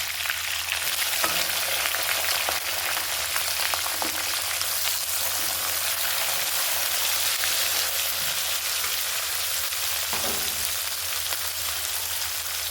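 Curry leaves and onion frying in a pan, a loud continuous sizzle with bright crackle and a few soft stirring scrapes, close and alone.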